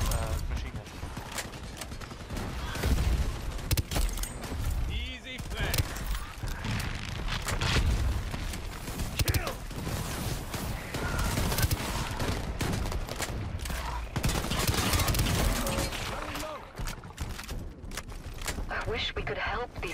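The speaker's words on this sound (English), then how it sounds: "No, it's the machine gun." A machine gun firing during a cooperative mission in the Shatterline shooter, sustained rattling bursts mixed with explosions and combat noise throughout, with people talking over the action.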